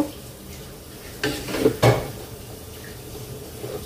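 A spoon stirring cooked pulao in a pot, with a few scraping, clattering strokes in the middle against low kitchen background noise.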